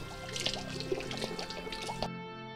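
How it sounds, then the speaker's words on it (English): Water from two fresh coconuts is poured into a glass jar, giving a near, moderate run of dripping, splashing liquid with small plinks that stops abruptly. "Fill the water in less than half the size of the glass jar."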